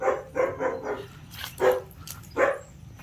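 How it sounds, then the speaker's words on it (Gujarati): A dog near an ancient temple in Porbandar barks: a quick run of four barks, then two more spaced apart, moderately loud and close, with no talk. "એક કૂતરો હશે"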